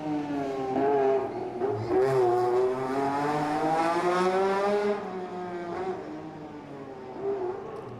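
A rally car on the Circuit of Ireland Newtownards stage passes with its engine revving and changing pitch as it brakes, then fades into the distance, heard alone without talk.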